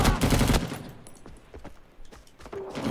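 An M60 machine gun in the game Rising Storm 2 on the Cu Chi map rips off a loud, close burst, followed by scattered shots and softer distant gunfire.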